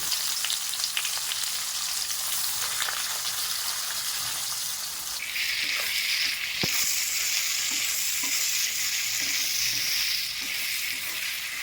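Cumin, bay leaf, dried chilli and then onion fry in oil left from frying fish, for a Shankar fish curry. A steady close sizzle swells into a brighter, louder hiss partway through, then settles.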